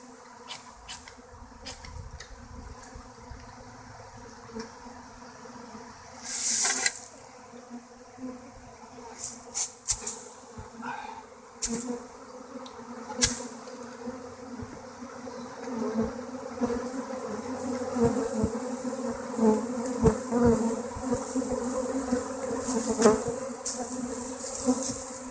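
A swarm of bees buzzing around a flower pot in March, a dense continuous drone close by with individual insects flying past, growing fuller and louder toward the end.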